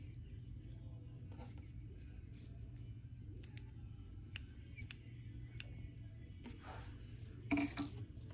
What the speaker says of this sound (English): I'm kind of trimming now a little bit as I go along